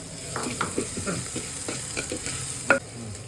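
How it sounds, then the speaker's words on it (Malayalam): A spoon stirs food in a sizzling pan, with scraping strokes over a steady frying hiss and one sharper clink near the end. "എന്നിട്ട് സൂപ്പറായി ഇളക്കണം കേട്ടോ"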